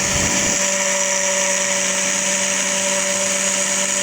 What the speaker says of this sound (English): So now I'm going to grind it now. When it starts becoming a fine powder, it means it's done.